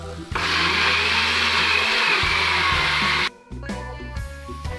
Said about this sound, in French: Je rappelle qu'il est assez important de bien mixer pour ne pas faire de grumeaux